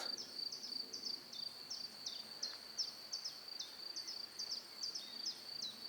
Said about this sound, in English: You hear the bird song.